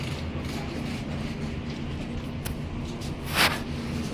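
Steady low rumble of a train carriage in motion, with constant rolling noise and a brief brighter rattle near the end.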